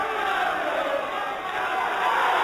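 Boxing crowd roaring as spectators invade the ring after a round, a dense, sustained wall of shouting and cheering that stays loud throughout.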